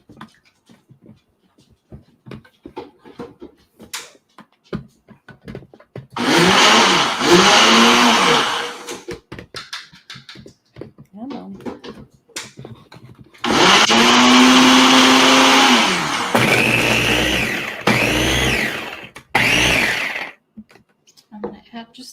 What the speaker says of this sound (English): but you're just going to grind this up. You don't need to get it perfectly smooth.